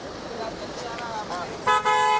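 Car horns in a traffic jam in Port Blair on the Andaman Islands: a couple of short beeps near the start, then a loud, sustained double honk close by.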